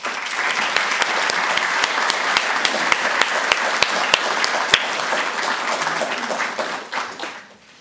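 Conference audience applauding to welcome a speaker at a peacebuilding and democracy event, dense sustained clapping from a crowd with a few sharp individual claps standing out, tapering off at the end.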